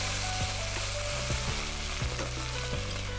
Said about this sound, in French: Faites revenir le tout jusqu'à ce que les oignons soient bien dorés.